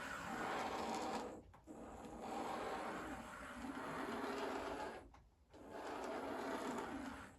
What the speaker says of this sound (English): the majority of the noise is just coming from my baseboard.